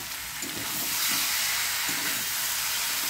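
Masala for kohlrabi sizzles steadily in a hot pan, with a continuous loud frying hiss and a few soft stirring scrapes, alone without talk.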